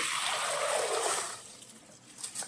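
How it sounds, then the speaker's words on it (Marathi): Water trickling and splashing as it drains off rice soaked overnight, a close pouring stream that tapers off into a few light drips. "वरचं पाणी काढून घेते मी"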